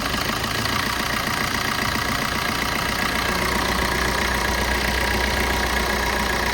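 Steady, continuous diesel idle from a 2016 Maruti Suzuki Vitara Brezza ZDI held at about 1000 rpm, a dense even drone with no pauses and no voices over it.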